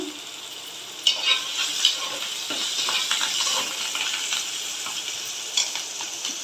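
Curry leaves crackle and sizzle in hot oil as a spoon stirs a chicken gravy curry with softened tomatoes, a steady close frying hiss broken by a few sharp scrapes.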